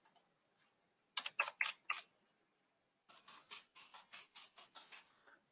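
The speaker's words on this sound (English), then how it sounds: "So I will type our server IP address." Fingers type a server IP address on a computer keyboard, giving faint, close clicks. A quick cluster of keystrokes comes first, then a longer, evenly paced run of taps after a short pause.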